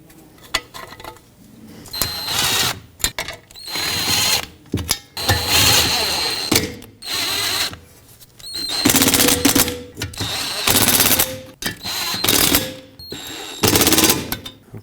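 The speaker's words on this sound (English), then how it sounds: "now let's put in all the bolts" Power tool driving in bolts on a 2012-2017 Toyota Camry front backing shield, repeated loud bursts of rattling impact hammering separated by short pauses, close by.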